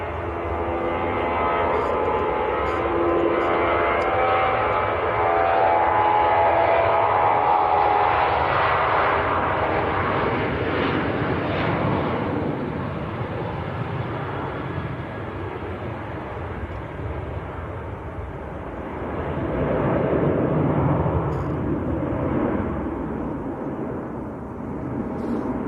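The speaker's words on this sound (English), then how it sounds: "Ryanair to Faro on the roll." Ryanair airliner on its takeoff roll for Faro: a loud, sustained jet engine roar that swells and fades over the run, close and continuous with no voices.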